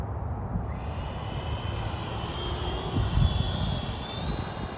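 A Freewing DH-112 Venom 90mm EDF radio-controlled jet flies overhead with a continuous airy whine and roar that stays steady, then swells briefly as it passes, loud and fairly near outdoors.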